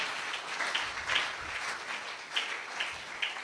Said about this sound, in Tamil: கைத்தட்டி கர்த்தரை ஸ்தோத்திரம் பண்ணுங்க.